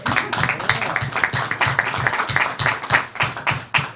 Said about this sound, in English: Could we have a round of applause for that?